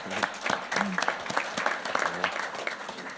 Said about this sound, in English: So I think we can all give ourselves a round of applause for that